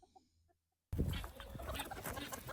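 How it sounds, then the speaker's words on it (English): Soft, scattered clucks from a small pom-pom chicken, then a sudden burst of loud, close rustling and flapping noise that fills the rest. "These little pom-pom chickens."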